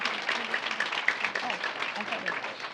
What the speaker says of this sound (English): If you can please give them a round of applause.